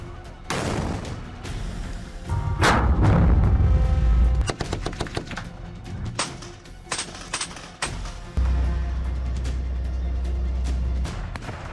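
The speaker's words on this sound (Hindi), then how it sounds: "शहर फिर विस्फोटकों से गूंज उठा" Loud, repeated gunfire and heavy booming blasts echo around, with bursts of rapid shots and deep rumbling explosions over a steady low roar.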